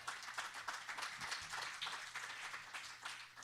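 A church congregation claps together in a steady, dense patter of applause that sounds faint and distant.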